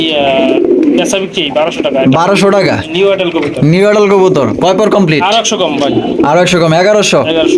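Pigeons of fancy breeds at a bird market cooing repeatedly in close, loud, rhythmic rising-and-falling calls, with people talking over them.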